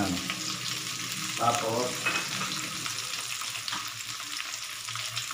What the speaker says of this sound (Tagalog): Halo-halo lang po natin yan.